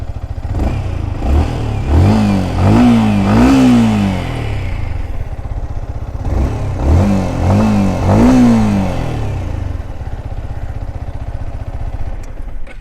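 A 2025 Yamaha MT-15 motorcycle engine is revved twice while stationary. Each burst climbs quickly in pitch, holds with a raspy, sporty tone and drops back to a loud, close idle between blips.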